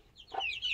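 Chicks and hens on a farm: one short, soft cluck with a thin high peep, faint and close, lasting under a second.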